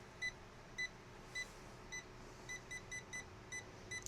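Cheap multimeter with a non-contact voltage detector giving about ten short, clear electronic beeps at uneven intervals, close and fairly quiet over a faint background hum.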